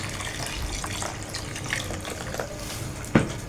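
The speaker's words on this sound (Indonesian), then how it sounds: "Dan ini kita kasih air setengah liter ya, atau 500 ml airnya." Half a liter of water is poured over grated coconut for Sundanese dodol, a steady moderate splashing stream close by, ending in a brief sharp clunk near the end, without voices.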